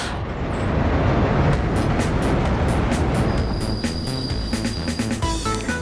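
A train in the Soviet-era city-building game Workers & Resources: Soviet Republic rumbles past loudly and steadily, with rhythmic wheel clacks on the rails and a thin high squeal of wheels emerging in the second half.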